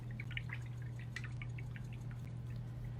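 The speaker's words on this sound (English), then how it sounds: "then you're gonna just wipe off your brush and give it a good rinse" Faint water drips and trickles as a paintbrush is rinsed after acrylic painting, scattered small splashes over a steady low hum, quiet and close.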